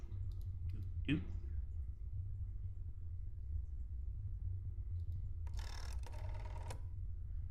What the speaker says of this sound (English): Pick up the phone and dial a number.